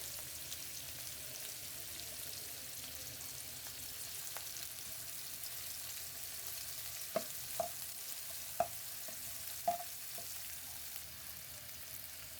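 Onion, ginger and garlic fry quietly in a pan. A soft, even sizzle runs throughout, with a few sharp clicks and taps near the end and no talking.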